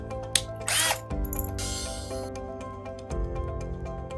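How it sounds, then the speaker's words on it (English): A power drill whirs in short bursts with harmonic motor whine, drilling a pilot hole to join handrails, pausing and restarting, close and loud, with no talking. "use one of the smaller drill bits that we provide and make a pilot hole"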